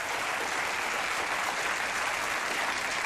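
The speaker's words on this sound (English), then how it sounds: "See, I'm pretending that applause is for me." Late-night studio audience applause, a full, even wash of clapping that fills the room at a steady level from start to finish with no talk over it.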